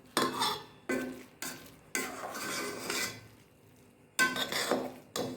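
A rice cooker pot holding cooked rice and dal is lifted out and set down, giving several separate metallic clanks and scrapes with short quiet gaps between them, close by and without talk.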